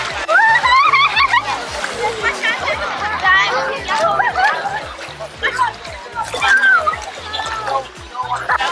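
Children splash and slosh in salty sea water at a beach in Jamaica, with irregular close splashes and dribbles mixed with steady excited children's chatter and adult talk.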